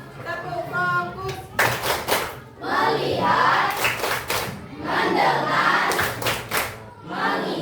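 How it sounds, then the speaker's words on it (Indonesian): Schoolchildren in a classroom perform a rhythmic focus clap, bursts of unison hand claps alternating with chanted group voices, loud and close, repeating in short patterned phrases. "Nah, sebelum itu kita mau tepuk fokus dulu."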